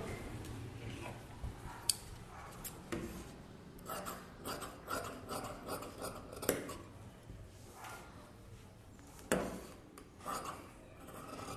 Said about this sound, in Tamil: இப்போ நான் பேக் எடுத்துட்டேன்னா பேக்கை கட் பண்ணிடலாம்.